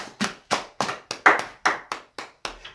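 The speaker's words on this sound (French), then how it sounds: "Est-ce que tu peux acclamer très fort le Seigneur?" A congregation claps in unison during a worship service, with about ten sharp, evenly spaced claps that ring loud and close.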